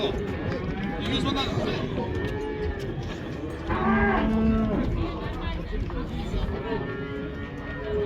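Cattle at a livestock market in Kyzylorda give a loud, drawn-out moo close by, amid a busy outdoor bustle with people talking throughout.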